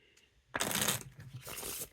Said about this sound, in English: So putting decent Wiffle Shuffles and Bridge Shuffles.